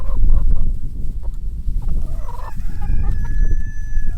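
Backyard chickens cluck in a busy, close flock while a rooster crows clearly over them in the second half, the calls loud and layered.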